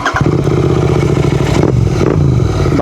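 GT 650 motorcycle engine revving close by, a loud sustained rumble that surges and dips as the throttle is blipped, with no talking.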